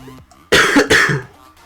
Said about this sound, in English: Sorry about the coughing, I think I'm coming down with a cold.